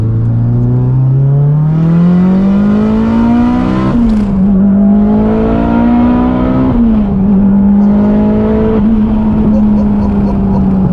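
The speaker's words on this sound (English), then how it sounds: "when this thing comes on boost, it is ruthless" A 630 bhp Mitsubishi Evo 9 pulls hard on turbo boost. A loud, close engine note climbs steadily, breaks with quick gear changes, then climbs again. It sounds ferocious and dominates throughout.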